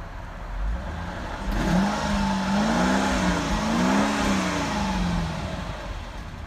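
A 2001 Mercedes S430 exhaust roars close by as the engine revs up and down a few times, a deep rumbling growl rising and settling.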